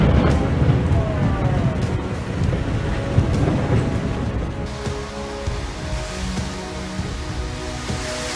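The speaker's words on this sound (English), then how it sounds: "The storm roared, unleashing its fury, toppling large branches as if they were mere matchsticks" Thunderstorm over Mecca: a deep, continuous rumble of thunder and wind roar fills the scene, loud and close, easing slightly in the second half while a faint tonal sound and a voice come through.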